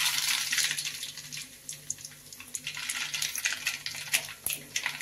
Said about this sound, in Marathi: आपण ह्या चमच्याने अर्धा चमचा मोहरी टाकूया.